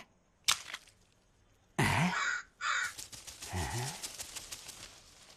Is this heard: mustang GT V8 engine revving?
no